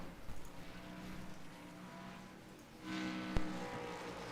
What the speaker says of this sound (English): As he comes by on my camera, the engine sounds fine if iRacing's being kind to me